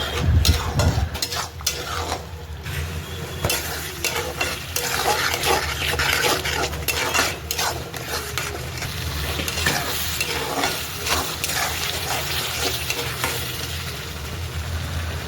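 Chicken masala gravy is stirred and roasted in oil, with a continuous loud sizzle and frying hiss under repeated close scraping of the spoon through the thick gravy against the pan.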